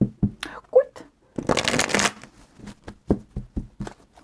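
Tarot cards are cut and riffled in a brisk half-second burst of shuffling, surrounded by scattered taps and card handling, with a person talking intermittently around it.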